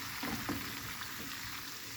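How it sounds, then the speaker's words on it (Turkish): Soft, steady bubbling and hiss of pasta water at a boil in a pot, low and continuous with faint clinks, no voices. "Makarnamı hemen koydum. Bak kaynıyor."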